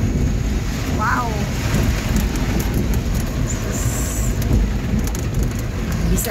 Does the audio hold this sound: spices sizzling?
no